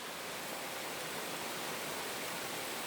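Steady rain falling outdoors, a dense, even hiss of downpour that holds constant throughout, close and fairly loud, with no voices.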